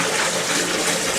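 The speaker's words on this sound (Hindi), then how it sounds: "गर्म पानी इस तरह का लेके थोड़ा सा उसका अंदर डालना है" Hot water poured into a blocked Indian-style squat toilet makes a brief, steady rushing splash, close and continuous for about a second.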